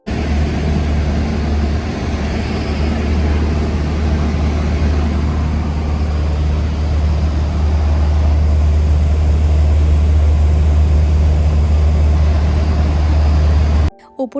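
Loud, steady droning engine with a constant low hum and broadband roar, continuous throughout, heard from inside the cabin of a small private propeller plane flying low over the San Juan Islands.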